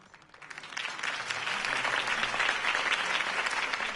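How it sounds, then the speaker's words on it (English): Crowd applause after a campaign speech for Harvey Dent, steady clapping that builds over the first second and then holds loud and dense, with no talking over it. "If only Mr. Wayne, my campaign's largest backer, could have heard that applause"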